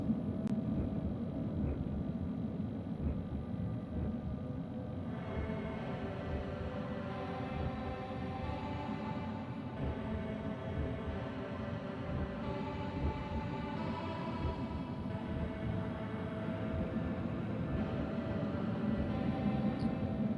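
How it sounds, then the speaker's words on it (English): A train runs on steel rails with a continuous low rumble and faint metallic tonal whine, steady and unbroken for about twenty seconds with no voices. "The sound of steel on rails slowly pulls you from your sleep."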